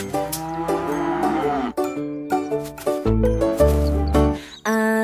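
A cow moos several times in a French children's nursery rhyme song, the lowing calls mixed over bright musical accompaniment, loud and close.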